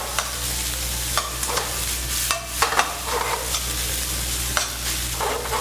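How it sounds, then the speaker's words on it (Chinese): Cooked white rice being stir-fried over medium heat in a wok, a steady sizzle broken by repeated scraping and pushing strokes of the spatula, close and fairly loud with no talking. "尽量把白饭炒开炒散哦"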